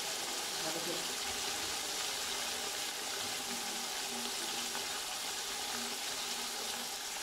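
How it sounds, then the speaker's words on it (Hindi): Five cups of water pour steadily into a pot for mutton mince pulao, a continuous rushing splash that holds an even level throughout, with no one speaking. "पानी डालेंगे 5 कप डालेंगे मैं।"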